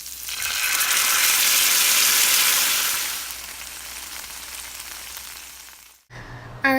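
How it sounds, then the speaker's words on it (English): Shrimp sear in melted butter in a hot skillet, a loud bright sizzle that swells over the first few seconds and then eases, followed by a brief cut and a short clatter at the end; no talking. "you're going to start searing the shrimp in some butter"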